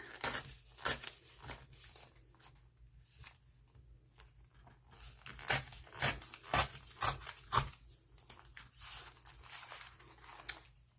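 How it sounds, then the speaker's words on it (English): A paper bag is ripped along a ruler to tear away the extra paper, giving quiet, close crinkling and a series of short tearing bursts that grow louder and quicker toward the middle. "Stick my ruler down and rip away the extra."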